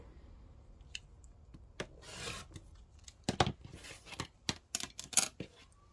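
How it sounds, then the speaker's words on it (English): Quilt fabric is cut along a ruler with a rotary cutter on a cutting mat, making short rasping strokes and sharp clicks that come in an irregular burst, close and fairly quiet, with no voices. "just grab your ruler and cut on that line"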